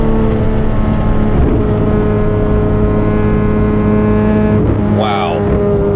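A 991-generation Porsche 911 GT3 RS with PDK gearbox heard from the cabin on the move, its engine holding a loud, steady high-revving drone throughout with a brief shift-like change near the end.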